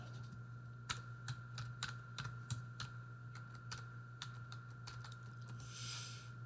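A login username and password are typed on a computer keyboard as a quick run of light, close key taps in short uneven bursts over a quiet room hum.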